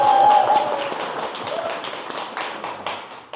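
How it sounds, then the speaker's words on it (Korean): A small crowd claps and applauds at a local election campaign event in an office, steady clapping that starts loud and slowly tapers off, close by. "박수 좀 쳐주세요."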